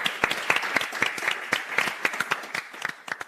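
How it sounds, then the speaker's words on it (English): Audience at a science-week panel on sustainability podcasts claps for a guest: a fairly quiet, sparse round of distinct hand claps from a modest crowd, steady for a few seconds and thinning toward the end. "maybe a round of applause for Claudia for being here"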